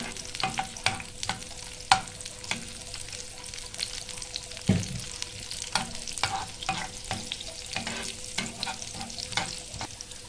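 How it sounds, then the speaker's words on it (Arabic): Potatoes fry with tomato sauce in a pan, sizzling steadily under repeated clinks and scrapes of stirring. "بس شوية نحمسه ونحط الصلصة عليها"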